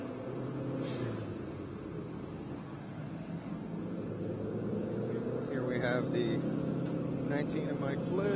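Race car engines are tuned in a garage at the Mid-Ohio Sports Car Course during a Nationwide Series weekend, a low rumble and occasional revving that stays faint and fairly distant beneath a person talking.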